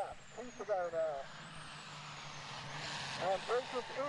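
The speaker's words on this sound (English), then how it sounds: "they've got the Div 1 trucks coming through" Division 1 racing trucks passing on the Pembrey circuit, a sustained engine roar with rising and falling whines as they go by, heard beneath a commentator's voice.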